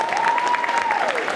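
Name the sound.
audience applause for sign language interpreter Florine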